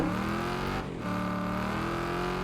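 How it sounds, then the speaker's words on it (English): A car engine in the Wreckfest 2 racing game runs at a steady, sustained drone, holding a constant pitch with a brief dip partway through and no voices. "I think the car sounds completely different."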